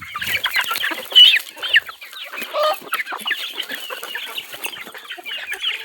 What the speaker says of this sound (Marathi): कोंबड्या किती धडपडत आहे